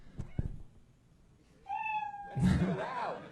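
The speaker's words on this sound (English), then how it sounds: "You know your time is up when you hear the sound of a kitty." A single cat meows clearly, with a second, louder drawn-out meow following after a brief pause; close and alone, with a little faint background noise.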